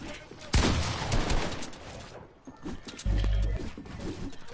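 Video game gunfire crackles in a few sharp bursts amid noisy in-game sound, with a loud shot near the start and another burst later, fairly close and prominent.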